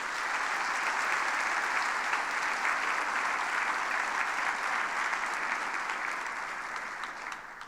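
Sustained applause from a large church congregation during a sermon, dense and steady, holding strong for several seconds before slowly tapering off near the end.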